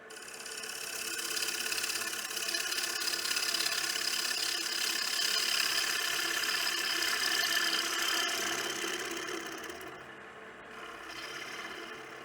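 A gouge cuts into a spinning wooden bowl on a lathe with its bevel rubbing, giving a steady, close, hissing rasp over the motor's low hum, easing off briefly near the end.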